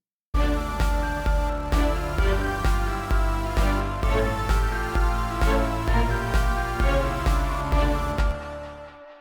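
A dense synth arrangement with a rhythmic lead through tape echo, its notes repeating as echoes, over steady beats and pads, then ends abruptly.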